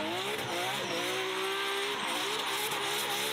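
A Mazda RX7 drift car with a four-rotor engine screams loudly at high revs, tires squealing as it slides through a corner at a Goodwood festival run, the engine note rising and wavering close up.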